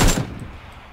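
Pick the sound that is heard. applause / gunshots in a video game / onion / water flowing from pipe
gunshots in a video game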